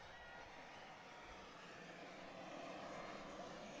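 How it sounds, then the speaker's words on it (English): A Southwest jet airliner passes overhead during a college softball game, a steady, distant broadband engine roar that holds evenly throughout. "there's Southwest Jet number 4"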